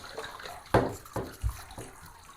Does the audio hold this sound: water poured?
yes